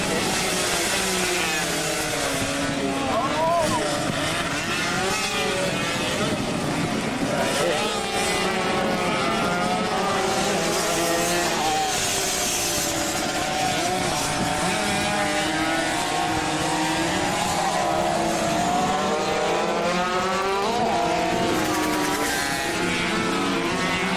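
Stock cars racing at a CMRRA event, engines roaring continuously at close range with shifting revs as cars pass, while an excited commentator talks over the noise.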